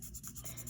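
Charcoal shading strokes on paper, a soft continuous scratchy rubbing with gentle repeated pulses of friction, close and quiet, without any talking.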